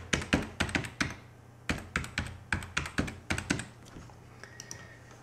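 Close, crisp keystrokes on a computer keyboard as a password is typed, arriving in quick bursts of several taps separated by short pauses, with a final few lighter taps.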